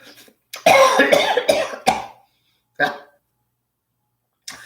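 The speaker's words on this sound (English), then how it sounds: "And I'm going to cough." A cluster of harsh coughs, then a single cough and a brief one at the end, loud and close, with no other sound.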